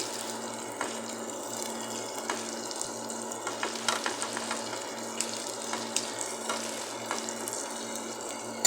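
Green chillies frying in a pan for chicken curry, a steady soft sizzle with faint crackles and occasional clinks, continuous and close with no voices.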